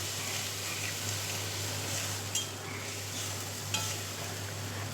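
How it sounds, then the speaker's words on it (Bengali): Tomato paste being stirred into hot oil with ginger and green chilli paste, a continuous soft sizzle with low hum and a couple of faint spoon clinks against the pan. "এবার দিয়ে দেবো টমেটো পেস্ট, আর একটু ভালো করে নেড়ে নিই।"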